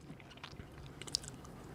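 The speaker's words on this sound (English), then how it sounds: "it's like an ASMR chewing. You could hear all of it." Someone chews macaroni and cheese up close, making soft, faint, moist chewing and squishing sounds with a few tiny crisp clicks, with no talking.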